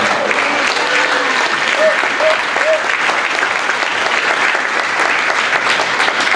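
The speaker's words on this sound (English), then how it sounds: "Please give him a round of applause." A large audience at an environmental law conference keynote breaks into sustained, dense applause that fills the room steadily and loudly throughout, with a faint voice briefly audible at the start.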